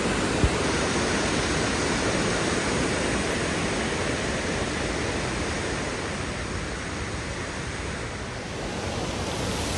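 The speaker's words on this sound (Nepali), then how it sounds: "यहाँ चाहिँ एउटा खोला बगिरहेको छ" Forest stream flowing near Agate Falls in Michigan, a steady broadband rush of water, close and unbroken throughout, with no voices.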